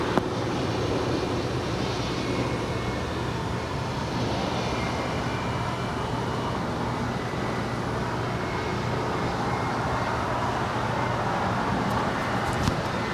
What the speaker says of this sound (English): This is JetBlue Airways Flight 287 coming in from Boston on this A321